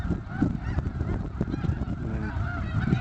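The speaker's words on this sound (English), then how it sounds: "There's a bunch of snow geese right here in front." Dense chorus of snow geese honking steadily close in front at an outdoor birding viewpoint, many overlapping calls with no talk.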